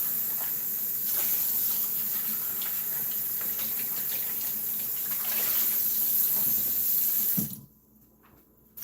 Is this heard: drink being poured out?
yes